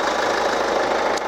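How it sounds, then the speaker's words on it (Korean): A used Kia Sorento SUV engine idles steadily up close, giving a continuous even rumble with no one speaking. "엔진 소리 한번 들려드릴게요"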